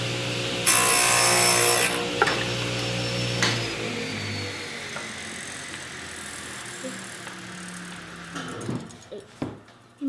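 A table saw cuts a wooden dowel into half-inch pucks: a loud whining blade bite for about a second, then the motor spinning down over several seconds, with a few knocks at the end.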